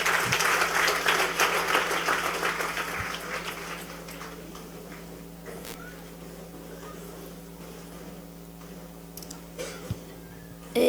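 Church congregation applauding during a sermon, a burst of dense clapping that is loudest at first and thins to scattered claps over several seconds, with a faint low hum underneath.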